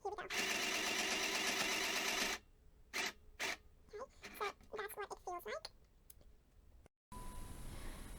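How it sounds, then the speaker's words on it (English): A mini sewing machine runs steadily at low speed, its presser-foot pedal held down, giving a continuous close-up mechanical whir for about two seconds before stopping, followed by short clicky bursts and rustling. "I'm going to continue pressing down continuously on low speed on the presser foot."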